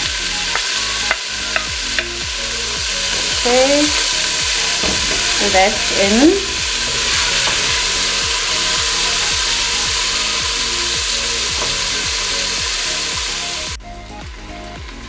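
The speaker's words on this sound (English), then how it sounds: "that sizzling sound of onion." Onions sizzle steadily in a pot throughout, a broad hiss with stirring scrapes and clinks, while a voice speaks briefly near the start.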